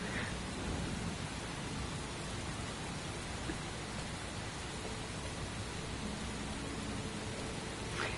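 Steady, dense rain hisses without a break in a rainy scene from the video game Heavy Rain, a broadband wash with no voices over it.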